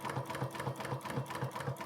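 A sewing machine stitching a dress, its needle thumping in a fast even rhythm of roughly four strokes per second, close by and steady, with no one speaking.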